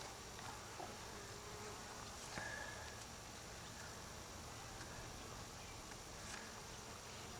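Close-up buzzing of a honeybee resembling a Carpathian bee, taken from a captured swarm, a steady faint hum under outdoor background noise with no talk.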